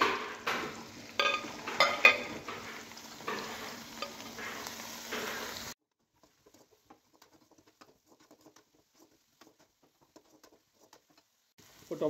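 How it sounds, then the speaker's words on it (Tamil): Ground onion paste hitting a hot pan for spinach dal sambar, giving a busy sizzling patter with stirring for several seconds, then the frying drops away almost to silence. "இப்போ அரைஞ்சி வச்ச வெங்காயத்தை போட்டுடலாம்."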